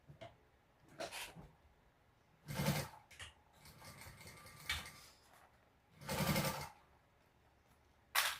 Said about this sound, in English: We'll sew this binding on and get this bag turned.